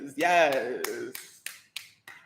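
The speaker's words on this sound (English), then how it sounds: "Okay, that's enough clapping." Hand claps in a home kitchen during a live salted caramel cupcake baking session: a voice speaks briefly, then about six sharp, separate claps follow in a loose, uneven rhythm, close and moderately loud.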